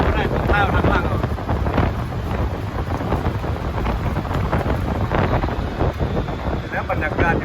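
Strong wind buffets the microphone in a continuous loud roar of low rumble and gusts, with voices talking underneath, outdoors near the Mekong river crossing between Vientiane, Laos and Nong Khai, Thailand.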